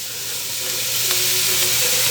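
Chopped onion, celery and bell pepper sizzling loudly in a hot pan, a constant bright crackle with occasional pops and faint stirring, close by, no talking.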